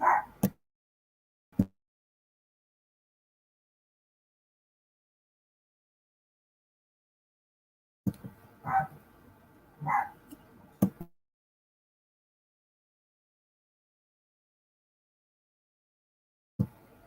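A few sharp, isolated barks and yips from a very small dog ring out indoors, separated by long silences, with a short cluster of barking in the middle.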